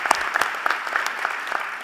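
Audience applause at a university presidential installation ceremony, a moderate crowd clapping in a hall, with distinct individual hand claps popping out over a softer continuous patter.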